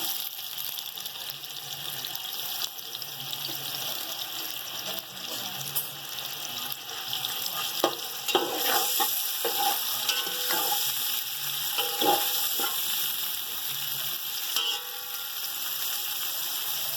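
Onions frying in oil in a pot for chicken yakhni pulao, a continuous hissing sizzle that swells louder midway, with occasional stirring clatters close by.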